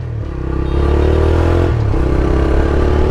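A 125cc motorcycle engine revs up loud and close, rising after a brief idle into a sustained, steady roar with low mechanical drone, no talking over it.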